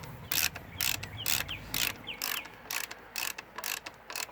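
Ratchet wrench tightening a 12mm locator bolt on a Suzuki Sidekick / Geo Tracker five-speed shifter, a run of quick crisp clicking bursts in an uneven rhythm, close and fairly quiet with no talk.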